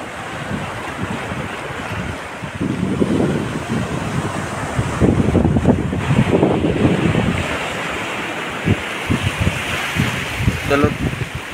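Sea waves roll in at Palshet beach, Guhagar, on a rising tide near a river mouth, a broad continuous wash swelling and receding with heavy wind noise on the microphone.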